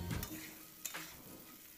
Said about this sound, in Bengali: নারকেলটাও তেলের মধ্যে ভাজা হয়ে যাচ্ছে